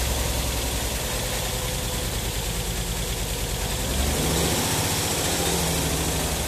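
A Nissan 300ZX with a twin-turbo VG30DETT V6, just reinstalled, idles steadily up close with a deep rumbling drone, swelling slightly louder about two-thirds of the way through.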